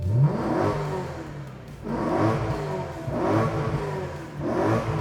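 A BMW E92 M3's 4-liter V8 revs hard in repeated bursts toward 8,600 RPM, about four surges rising and falling, loud and close with no talking.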